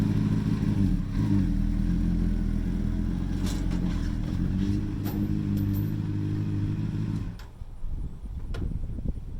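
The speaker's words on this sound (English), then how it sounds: "bike's already running" A 2005 Honda CBR 600 motorcycle idles with a steady, low, even engine drone, close by, then the engine cuts out near the end and leaves faint background noise.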